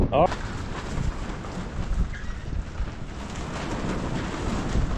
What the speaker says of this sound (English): I know the wind's beating the crap out of them